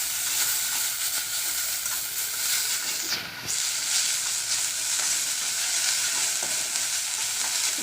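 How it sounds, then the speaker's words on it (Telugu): Tender tamarind leaves frying in a little oil in a pan give a steady, close, even sizzle that crackles and hisses throughout, with no voices. "ఫ్రై చేసుకోవాలి. కాస్త ఆయిల్ వేసి లైట్గా ఆయిల్ వేసి"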